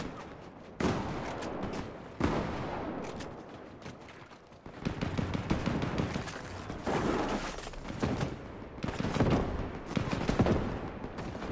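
Video game gunfire bursts in rapid volleys, loud and close, with several separate barrages and short pauses between them, no talk over the shots.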